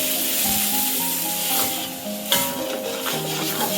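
Sizzling from a hot pan as a thick ginger-garlic paste fries with onions and is stirred, with scraping strokes and one sharper clatter midway, close and steady, no talking.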